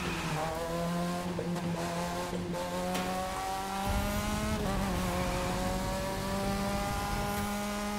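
A Mazda RX-7 drift build slides along a road in The Crew 2, its engine holding a high revving note while the tires squeal in a sustained skid, with no talking.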